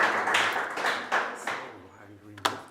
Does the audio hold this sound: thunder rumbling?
no